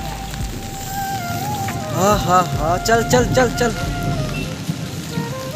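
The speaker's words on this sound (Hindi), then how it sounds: "और बारिश आने वाला है" Steady rain falls on surfaces during a flood in Assam, a constant hiss behind someone talking excitedly nearby.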